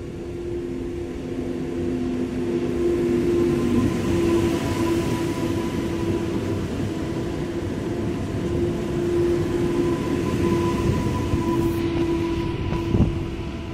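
A passenger train pulls in at a station platform, a loud steady rumble with a sustained tonal whine from the motors or brakes that runs throughout, with no voices.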